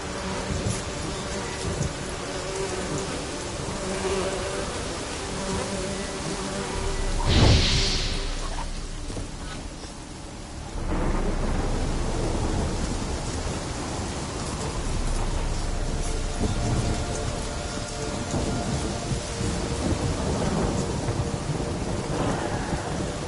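A storm in The Witcher 3 video game brings steady, hissing rain with a sharp crack of thunder partway through, followed by a lower, rolling rumble as the downpour continues throughout.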